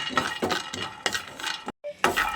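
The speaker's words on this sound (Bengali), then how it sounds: "এই বাদামগুলোকে আমি ভেজে নিচ্ছি।" Peanuts being dry-roasted in a pan for a soybean mash, scraped and stirred with rattling, clinking strokes in a steady rhythm, close and fairly loud, with a brief pause near the end.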